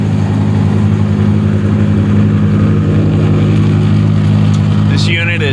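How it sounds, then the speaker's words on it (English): Rebuilt Clipper 57 D seed cleaner with wooden body, driven by a 5 horsepower single phase electric motor with fans on top, runs as a loud steady mechanical hum and rattle throughout, with a brief higher squeal near the end. "This unit is powered by a 5 horsepower single phase electric motor."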